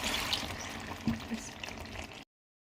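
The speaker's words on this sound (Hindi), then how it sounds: "अब मैंने इसमें पानी डाल दिया है" Water pouring into a cooking pot for chicken pulao, a steady close liquid rush lasting about two seconds before stopping abruptly.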